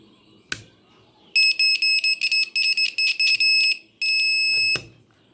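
A homemade earthquake alarm built as a school science project sounds as a loud electronic buzzer, close by: a sharp click, then a run of rapid, stuttering on-off beeps ending in one longer steady buzz before another click.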